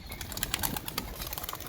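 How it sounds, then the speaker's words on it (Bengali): Pigeons being shown at a loft make faint, soft coos and rustling sounds against a hissy background, with a few brief flutters or clicks. "নিচে খেলা পায়রা দেখাচ্ছি বন্ধুরা, দেখুন।"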